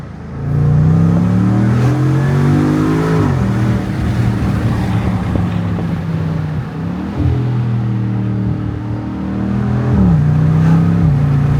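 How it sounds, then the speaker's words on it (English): A supercharged V8 in a Land Rover Defender V8 revs loudly from inside the cabin with the windows slightly down, its pitch climbing and dropping through several gear shifts in a steady, continuous roar. "The supercharged V8 in this Defender V8 is just a great engine"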